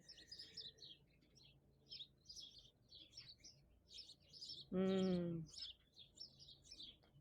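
Small birds chirp and tweet repeatedly in the background, with one louder, closer call briefly standing out midway through.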